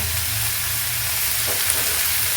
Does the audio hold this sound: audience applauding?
no